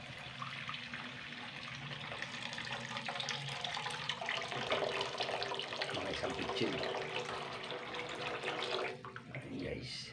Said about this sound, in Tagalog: Mas lagyan na rin natin siya ng tubig.